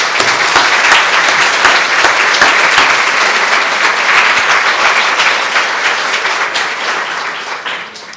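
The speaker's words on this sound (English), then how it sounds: "So give another round of applause" A luncheon audience gives a long, dense round of applause, many hands clapping close and loud without pause before the sound thins and fades near the end.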